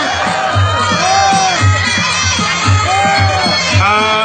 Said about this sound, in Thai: โอ้โหกองเชียร์กองเชียร์กองเชียร์เยอะ ครับสาวๆด้วยนะ เสียงกองเชียร์นะ